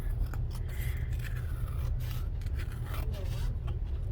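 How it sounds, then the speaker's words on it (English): Scissors cut through a handmade craft cover, giving repeated short scraping snips over a faint background, fairly close and quiet. "I'm just going to use scissors and cut the best I can."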